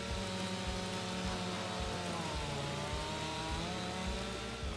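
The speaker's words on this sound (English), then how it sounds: "using the chainsaw" A chainsaw in Farming Simulator 25 drones steadily while felling trees on an Oregon homestead clearing, a loud, continuous whine with a low pulsing chug beneath it and no pauses.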